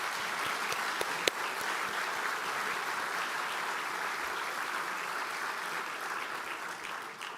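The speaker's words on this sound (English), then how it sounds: "Please join me in giving them a warm round of applause." A conference audience at a world seed congress opening ceremony gives a warm round of applause for honorary lifetime members, steady dense clapping from a large hall lasting about seven seconds and tapering off at the end.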